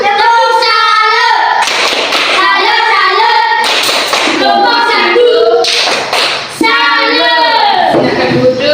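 A school class performs a rhythmic greeting clap for group 1, with loud chanted voices and a few sharp bursts of group clapping recurring every couple of seconds.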